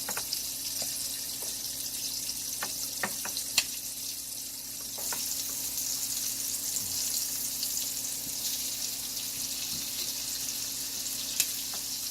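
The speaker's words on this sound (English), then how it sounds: "while the chicken's frying" Chicken pieces fry in hot oil held near 350 degrees, a steady, fairly quiet hiss and sizzle running throughout with a few faint clicks and pops and no voices.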